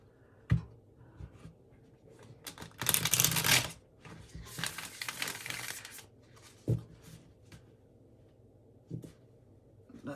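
Cards being shuffled close up: crisp riffling bursts and soft slaps as the deck is handled, with short pauses between shuffles.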